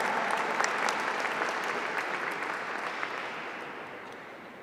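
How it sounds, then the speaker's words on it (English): Sustained audience applause fills a Lunar New Year of the Dragon celebration in San Francisco, a dense, steady wash of many hands clapping that slowly tapers off without any talking. "Another round of applause."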